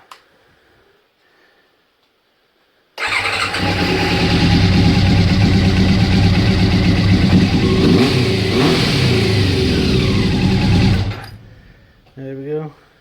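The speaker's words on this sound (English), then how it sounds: "Bike's all starts, no leaks, nothing there." A Honda CBR600 motorcycle engine, just reassembled with carbs and airbox, cranks and fires, then runs loud and steady with rising revs for about eight seconds before cutting off, followed by a brief voice.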